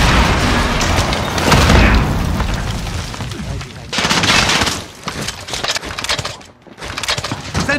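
A Call of Duty Modern Warfare battle: a heavy grenade blast booms up close, followed by bursts of rapid gunfire, with voices shouting over the din.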